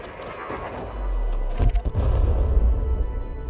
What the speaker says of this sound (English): Nice explosion.